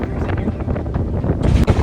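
Wind buffets the microphone on the open deck of a car ferry near Seattle, a loud, ragged roar of gusts with a stronger blast near the end.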